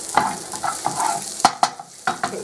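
Breakfast casserole food frying in a pan with steady sizzling, broken by several sharp scraping stirs and clinks of a utensil against the pan.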